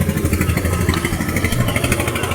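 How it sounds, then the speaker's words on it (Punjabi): A new Swaraj 855 tractor engine runs close by at a tractor fair, giving a loud, rapid, even diesel chugging with some metallic clatter throughout. "ਆਹੀ ਆ ਗਿਆ 855 ਫਾਈਵ ਸਟਾਰ ਸਾਈਡ ਗੇਅਰ ਨਵੇਂ ਟਰੈਕਟਰ"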